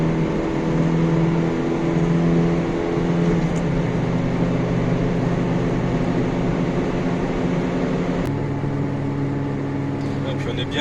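Inside a Peugeot 205 Zénith cruising above 100 km/h, a loud, steady engine and road drone carries humming tones. The tones shift pitch once about two-thirds of the way through.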